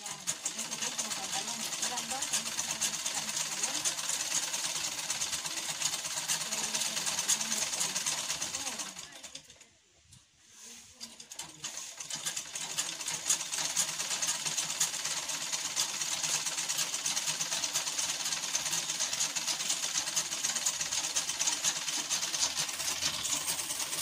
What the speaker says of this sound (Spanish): ahorita ya estoy terminando de costurar mi costura que me trajeron.